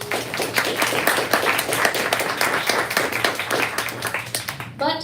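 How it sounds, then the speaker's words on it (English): A room full of people claps steadily for several seconds, dense applause that tapers off at the end as a voice begins. "Give them a little round of applause."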